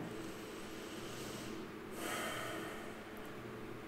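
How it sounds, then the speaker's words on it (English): One deep breath drawn in through the nose during a relaxing stretch class, soft and close, with a sharper rush of air midway and no talking. "Take a deep breath in."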